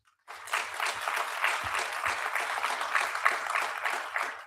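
Applause from a graduation ceremony audience for a manufacturing program instructor starts abruptly after a brief silence, then holds as a moderate, steady wash of many hands clapping.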